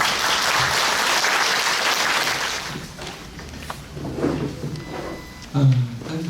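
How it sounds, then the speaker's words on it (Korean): Audience in the main auditorium of the Myeongdong Catholic Center welcomes a historian speaking at a Catholic priests' symposium with dense, loud applause that fades after about three seconds, leaving scattered knocks and shuffling. "우리 큰 박수로 모시겠습니다"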